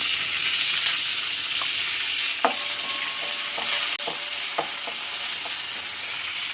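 Curry leaves and dried red chillies sautéing in hot oil for a dried-fish curry, a dense continuous sizzle and hiss with a few soft spoon taps and scrapes near the pan.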